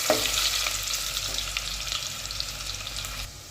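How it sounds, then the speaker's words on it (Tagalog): Garlic hits hot cooking oil in a pan, a loud, bright sizzle that bursts at the start and holds as a continuous crackling fry, easing slightly before cutting off near the end. "yan na mainit ng mantika at ilagay na natin yung bawang"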